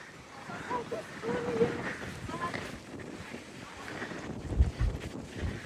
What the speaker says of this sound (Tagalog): Mahangin siya pero hindi malamig.